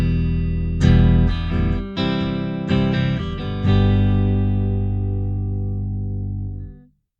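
An electric guitar played through a BluGuitar Amp1 on its clean channel strikes several chords in quick succession, then lets the last one ring out and fade, with no talk.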